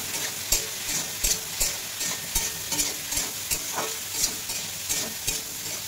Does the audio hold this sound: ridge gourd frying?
yes